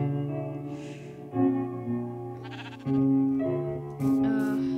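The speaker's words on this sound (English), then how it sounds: "There are some sheep" Sheep in Minecraft, in the FTB Direwolf20 modpack, let out three or four loud, wavering bleats one after another, heard close and alone with no talking.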